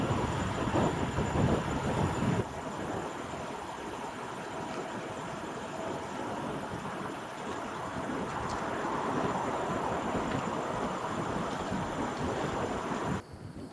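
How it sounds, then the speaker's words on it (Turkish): Steady roaring wind rushes across the microphone while cycling, a constant broadband buffeting with a louder gusty burst at the start. "Ya çok rüzgar olmadı mı ya? Pedal atamıyorum ya rüzgardan."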